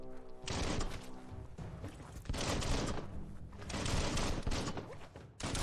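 Weapon fire in the video game Biomutant comes in several loud, close bursts of rapid shots separated by short pauses, with thudding impacts and no talking.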